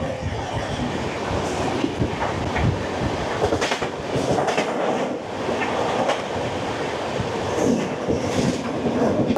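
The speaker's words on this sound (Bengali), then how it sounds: "এটা হচ্ছে তিরুমালা এক্সপ্রেস" Tirumala Express passenger train arriving, close and loud, with rhythmic clickety-clack of wheels over rail joints and a rolling rumble of coaches throughout.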